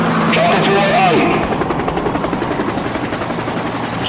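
A helicopter in a hidden object PC game flies by with a steady rotor chop, loud and close, while a voice speaks over it.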